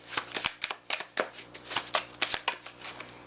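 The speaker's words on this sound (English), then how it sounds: "let's get one more card from the Inspired by Frida" Cards are drawn and shuffled from an Inspired by Frida oracle deck, making quick crisp papery flicks and riffles in an irregular rhythm, close and clear with no talking.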